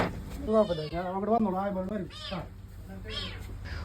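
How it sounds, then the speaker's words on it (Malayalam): A small kitten mewing repeatedly in quick, high-pitched cries from inside something in a shop, close and fairly loud, with a couple of shorter squeaks trailing off. "ഒരു ചെറിയൊരു പൂച്ചക്കുട്ടിയുടെ ശബ്ദം ഇതിൻ്റെ അകത്തിരുന്നു."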